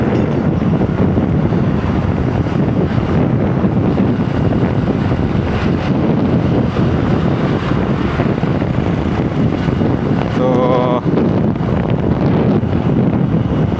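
Loud, constant wind buffeting a microphone while riding a Vahan scooter on a road in Tamil Nadu, with a deep rumbling roar throughout and a single brief spoken word.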